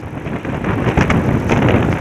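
Strong wind at about 40 to 50 km/h buffets the microphone outdoors beside a light motorbike, a dense continuous roar with rising gusts and no voices.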